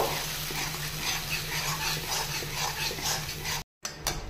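Paste of two kinds of ground mustard and green chilli frying in hot oil for a Bengali shorshe ilish, a steady close sizzle with soft stirring that briefly drops out near the end.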